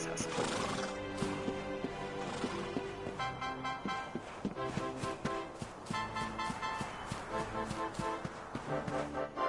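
Horse neighs and whinnies in Dragon Quest XI, set among a village with game music and clip-clop steps running throughout, the whinnies sounding moderately close and fairly quiet within the mix.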